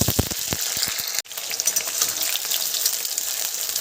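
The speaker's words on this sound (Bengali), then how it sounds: "পেঁয়াজটাকে ভালো করে ভেজে নেব" Chopped onions frying in hot oil for chicken curry give off a dense, hissing sizzle, with a few sharp pops near the start and a brief dip before the crackle resumes.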